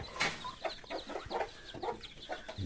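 A hen with her seven newly hatched chicks on a farm, giving repeated soft clucks and short peeping calls in an irregular rhythm, close by and moderately loud throughout.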